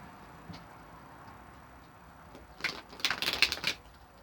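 Tarot cards being handled and shuffled, a quick burst of crisp, close clicking flutters after a quiet stretch with a faint tap.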